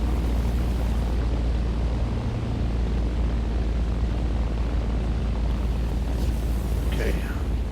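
A P-63A-10 fighter in War Thunder comes in to land hot without gear or flaps, its engine a steady, loud continuous roar with airflow rushing over it throughout.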